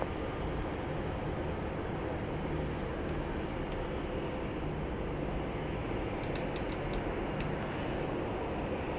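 A United airliner on approach at Phoenix Sky Harbor Airport gives off a steady, broad jet roar that holds evenly and sounds fairly distant, with no talking.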